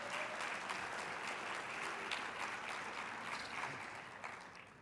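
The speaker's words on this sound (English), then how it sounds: "Let's give Natalie a round of applause." Audience at an association presentation gives a round of applause for Natalie, steady moderate clapping from a room of people that slowly tapers off.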